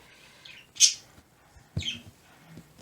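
Pet birds in a home squawk in two short, loud bursts with a gap between them, each a bright harsh call, with faint low household noise underneath and no talking.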